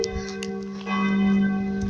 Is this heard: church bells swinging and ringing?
yes